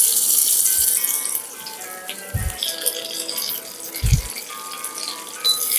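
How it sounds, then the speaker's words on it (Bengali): Sliced onion fries in hot refined oil, a bright, steady sizzle that flares loudest at the start and continues beneath a few low thumps from the pan. "তেল গরম হয়ে গেছে, আমি স্লাইস করে নেওয়া পেঁয়াজটা এতে অ্যাড"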